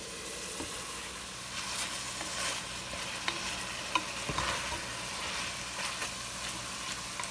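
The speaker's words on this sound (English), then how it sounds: "now we are going to add in the sausage" Sausage frying in a soup pot for kale and sausage soup: a soft, continuous sizzle with occasional scrapes and clicks from stirring, faint and with no voices.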